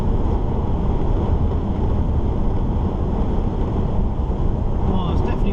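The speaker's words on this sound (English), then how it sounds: "Oh, it's definitely windy though." Steady, heavy wind buffets the microphone with a constant low roar that fills the whole stretch, loud and close.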